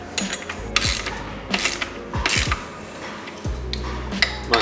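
A socket wrench ratchets in short bursts of clicking as bolts are tightened on the foot pegs of a Sur Ron X Black Edition electric motorcycle, with pauses between bursts and faint knocks close by.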